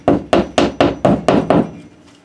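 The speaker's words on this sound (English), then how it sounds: "we're going to take our hammer and just tap it in" Hammer tapping a drywall anchor into a wall: seven sharp, evenly spaced knocks in just under two seconds, close and loud, each with a brief hollow thud, then stillness.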